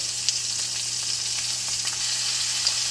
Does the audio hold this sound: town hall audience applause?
no